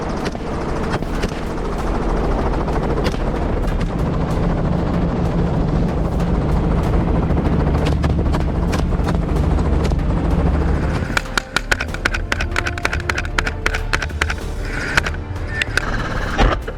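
Robinson R44 helicopter in flight during a feral pig hunt, giving a loud, steady rotor and engine drone. Sharp, rapid cracks break in over the last few seconds.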